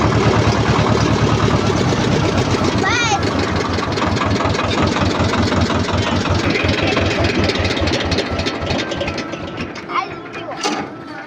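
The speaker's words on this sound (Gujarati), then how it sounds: "ફાઇનલી ટ્રેક્ટર આપણે બંધ કરી દીધું છે" A tractor engine runs close by with a loud, steady low chug throughout and slight variation in pitch. It stays rough and continuous before easing slightly near the end.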